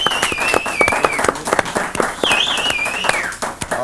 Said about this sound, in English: Right, a little more gratuitous applause.